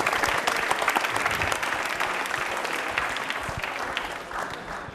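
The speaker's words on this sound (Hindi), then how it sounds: "निमिष के लिए तालियां एक बार जोरदार हो जाएं प्लीज" A studio audience at a televised quiz programme applauds a contestant with loud, dense, sustained clapping that fades slightly toward the end.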